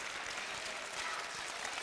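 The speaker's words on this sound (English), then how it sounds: "And a round of applause from the crowd." Crowd applause fills the arena after the women's +67kg taekwondo final in Manchester: a steady, dense wash of clapping from a large audience, even in level throughout and heard from a distance.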